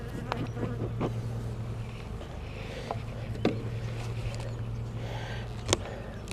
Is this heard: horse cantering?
no